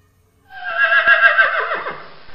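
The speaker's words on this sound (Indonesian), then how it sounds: "Sepertinya kuda teman-teman." A horse gives one loud, close whinny lasting about two seconds, trailing off in a shaky descending tone.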